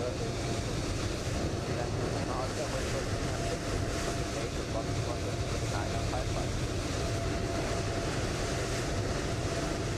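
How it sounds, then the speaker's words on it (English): An Air Dolomiti Embraer 195 in Microsoft Flight Simulator 2020 at Frankfurt, heard as a steady, dense jet engine roar that holds evenly throughout. "Air Dolomiti. Embraer 195, here we go"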